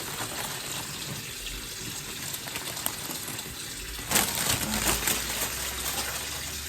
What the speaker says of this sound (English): I'm also going to quickly rinse this spinach